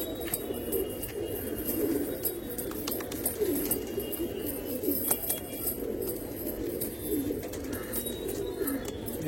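Pigeons in a loft of Andhra breed birds coo steadily and overlap throughout, a close, continuous murmur of soft rolling calls with no talk.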